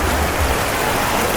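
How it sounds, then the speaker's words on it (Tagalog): A man-made river stream at a spring water resort rushes steadily, a dense, loud, continuous wash of flowing water close by. "Running water."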